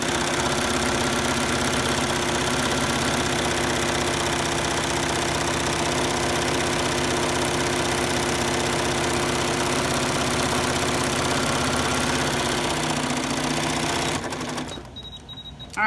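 A sewing machine stitches elastic into a tube at a steady, continuous rapid whir that runs close and loud for most of the time, then stops abruptly near the end.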